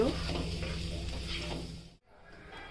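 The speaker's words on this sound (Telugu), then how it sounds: "ఒక టూ మినిట్స్ ఆలుగడ్డలు ఫ్రై చేసుకోవాలండి" Potatoes fry in a spoonful of oil in a pan, a close steady sizzle with soft stirring scrapes that cuts out abruptly near the end before a quieter hiss resumes.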